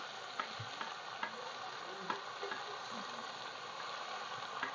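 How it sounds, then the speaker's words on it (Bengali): Vegetables sizzle and fry steadily in a pan for a vegetarian village meal, with a continuous crackling hiss and occasional sharper pops and stirring clicks, no voices. "ভাজা প্রায় হয়ে গেছে"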